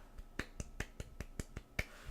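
Single pair of hands clapping at a gentle, even pace, about ten sharp, quiet claps in two seconds, close and alone.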